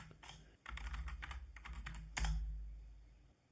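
Keys clatter on a computer keyboard as a password is typed, a quick irregular burst of close clicks with a brief pause and one louder press near the end.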